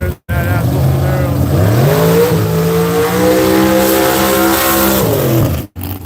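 A Chevrolet Camaro at Seattle International Raceway roars close by, its loud engine note rising and holding steady through a long pull, with a brief break in sound near the start and another near the end.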